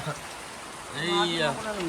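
Rainwater falls with a constant hissing patter during flooding in Darrang, Assam, and a voice briefly sounds over it near the middle.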